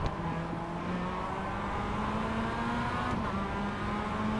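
Race car engines drone steadily in the iRacing sim racing game during a lap, a continuous close engine tone with harmonic whine holding throughout, no voices.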